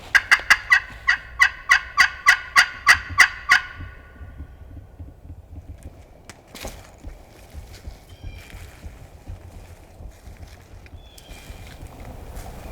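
A wild turkey on public land in Mississippi in spring gobbles in a rapid, loud, rattling burst of about a dozen pulses. Quiet outdoor rustling and faint footsteps follow.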